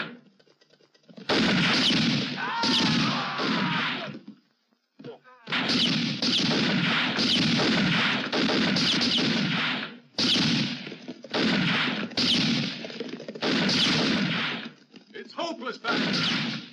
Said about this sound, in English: Stop firing. Don't waste your ammunition.